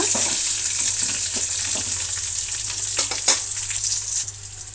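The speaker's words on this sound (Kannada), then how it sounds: "ಈರುಳ್ಳಿನ ಸೇರಿಸೋಣ ಮತ್ತು ಕರಿಬೇವಿನ ಸೊಪ್ಪನ್ನು ಒಂದು ಸ್ವಲ್ಪ ಸೇರಿಸೋಣ ಈಗ ಇದು ಫ್ರೈ ಆಗಲಿ ಎಲ್ಲನೂ ಕೂಡ" Onion and curry leaves frying in oil for a village-style fish sambar, a bright close sizzle with spatula scrapes and stirring taps, easing off toward the end.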